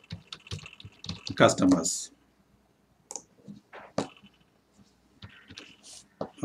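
Computer keyboard typing comes in close bursts of quick clicky keystrokes separated by quiet gaps, with a person speaking briefly at the start.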